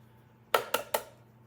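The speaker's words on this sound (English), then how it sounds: "Also into the blender, we're going to be adding 1 more egg." An egg cracked into a blender while making a vegetable frittata: three sharp, close taps on the rim in quick succession, about a fifth of a second apart, against a quiet kitchen background.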